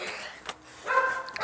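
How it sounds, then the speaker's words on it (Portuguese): Small pet dog indoors at home giving a couple of short, moderately close barks or yips, with a brief pause between them and no talk over them. "Eita, cachorro."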